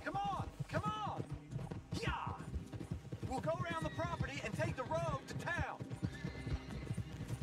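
Horse hooves clip-clop steadily from a video game, mixed with repeated neighs and whinnies, fairly quiet, with a voice talking over them.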